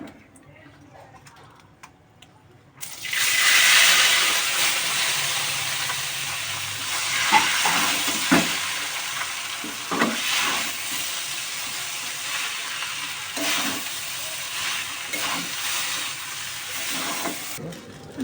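Chow mein noodles dropped into hot oil in a pan, after frying egg, sizzle steadily and loudly, with intermittent clinks and scrapes of stirring throughout.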